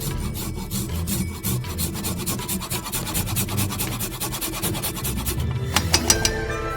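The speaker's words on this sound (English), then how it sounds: "Let's grate some ginger directly into the pan." Ginger root rasped on a grater straight over a frying pan, a steady run of quick scraping strokes close by, ending in a few sharper scrapes.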